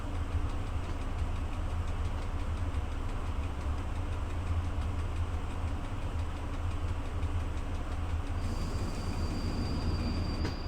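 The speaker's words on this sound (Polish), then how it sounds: "podjadę sobie kawałeczek, ale jeszcze nie będę przyklejał się do tego składu" A slow-moving train in the Train Driver 2 simulator gives a steady low rumble of engine and wheels, continuous and fairly loud, with a faint high whine and a tonal hiss joining near the end.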